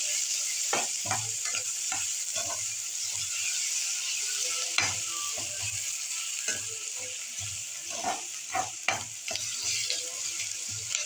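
Onions frying in a pan for a Belgaum-style dry crab masala, a steady sizzle with frequent scraping stirs of a spatula against the pan, moderately close, no talk.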